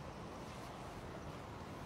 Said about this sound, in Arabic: هنا البحر المتوسط